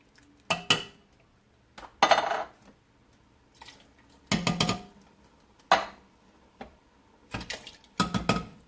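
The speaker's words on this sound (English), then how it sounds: "now I'm going to dump in all my tomatoes" Four cans of diced tomatoes, no salt added, tipped into a pot for spaghetti sauce, giving a string of separate clanks and wet thuds of metal can against pot, each burst short and fairly close with quiet gaps between.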